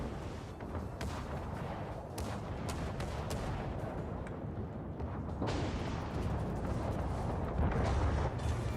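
Battleship gunfire and explosions in World of Warships, a dense rumbling barrage with repeated booming blasts and sharp cracks, loud and continuous, growing heavier toward the end.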